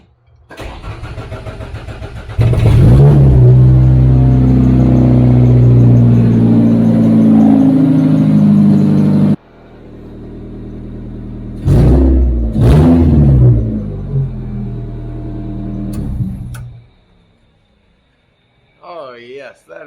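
Race car engine at a speedway, just fixed after a throttle body air leak, cranks and fires, holds a loud rough drone for several seconds, then gives two sharp blips of revving before settling and cutting off.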